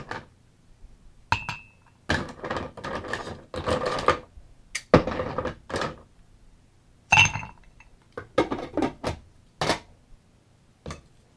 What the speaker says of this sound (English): Add some ice to your glass.